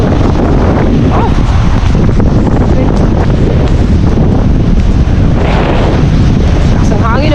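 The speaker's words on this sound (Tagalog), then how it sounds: "Lakas ng hangin" Strong wind during a rainstorm buffets the microphone in a loud, continuous roar, gusting throughout, with a voice faintly audible beneath it.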